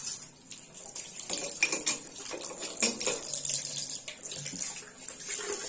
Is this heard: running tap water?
yes